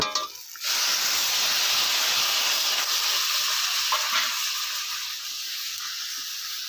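Water poured into a pan of frying mustard and chili paste sets off a loud, steady hissing sizzle that starts abruptly after a brief quiet moment and carries on alone, easing slightly toward the end.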